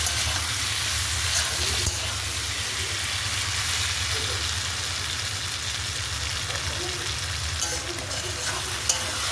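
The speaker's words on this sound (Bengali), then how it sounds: "মাংসটা আমি ভালো করে কষিয়ে নিব আস্তে ধীরে" Mutton being slowly sautéed for kosha in a pan with chal kumro, a continuous close sizzle with a soft scraping stir running throughout.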